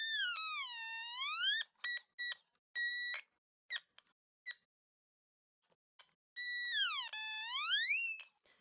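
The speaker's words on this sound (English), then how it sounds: "So that's what the automaton sounds like." An automaton musical instrument plays bright, electronic-sounding tones that swoop and warble up and down like a siren, then a run of short staccato notes, a pause, and another long swooping phrase, heard clearly with no talking.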